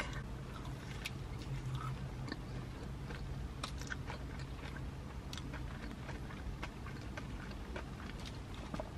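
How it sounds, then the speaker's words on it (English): Crunchy bites and chewing of a fried Cracker Barrel appetizer thickly coated in cinnamon sugar, close and continuous with scattered crisp cracks over steady mouth noise, without talk. "I cannot wait to bite into this"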